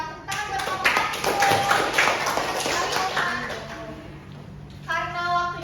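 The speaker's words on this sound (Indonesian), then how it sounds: "Tepuk tangan buat kelompok 1." A group of students in a classroom claps together, a scattered burst of applause with voices chattering over it, tapering off before a voice speaks again.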